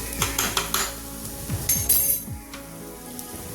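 A metal spoon stirs spices and turmeric in a pan for a plantain chilli curry, giving a run of sharp clinks and scrapes against the pan, close and fairly loud, fading to a quieter background sizzle.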